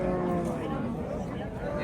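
Cows at the Angren livestock market, short low lowing amid the general hubbub of the busy cattle market, with people talking nearby.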